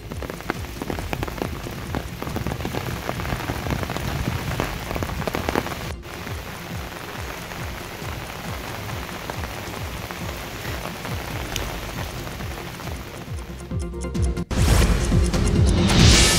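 Heavy monsoon rain pounds down continuously in Udupi district, a dense, close hiss of drops striking surfaces that swells louder near the end.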